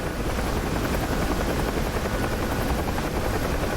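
Helicopter in a video game: a loud, steady rotor and engine drone holding evenly throughout, with no talk over it.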